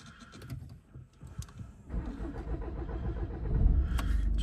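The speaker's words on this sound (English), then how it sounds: "let's just start her up" A 2016 Audi A3 Sportback 2.0 TDI diesel with quattro and S-Tronic gearbox cranks briefly after faint interior clicks, then catches and settles into a loud, steady clattering idle close by.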